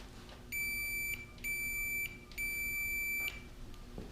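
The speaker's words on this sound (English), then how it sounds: "if I go push the switch in the front, the multimeter should beep at the same time" Three steady electronic continuity beeps from a multimeter testing a go-kart wiring harness switch, each lasting about half a second to a second, high-pitched and tonal, separated by short gaps over a faint hum.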